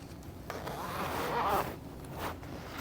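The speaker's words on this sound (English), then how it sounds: "In order to be able to do that, I'm going to have to unzip it." A zipper on a fabric pouch being unzipped, a rasping zip of a little over a second that builds and then fades, heard close by in a quiet room.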